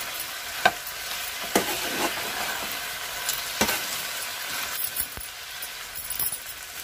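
Potato and brinjal dry curry stirred in a pan, a soft continuous frying sizzle with occasional sharp spoon scrapes and taps against the pan, close and without talk.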